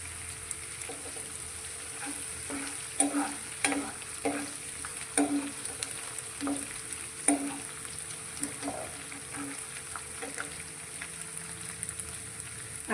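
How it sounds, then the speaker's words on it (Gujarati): Ginger and green chillies sauté in oil in a kadai, a soft steady sizzle under rhythmic scraping strokes of a spatula, each stir landing as a distinct close scrape, with no talking. "અને આદુ મરચાંને પણ આપણે સારી રીતે સાતળવાના છે"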